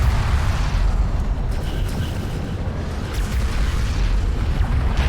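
A railgun is blown up in the Deserts of Kharak strategy game, and a loud, sustained rumbling blast roars continuously under dense battle noise from start to finish.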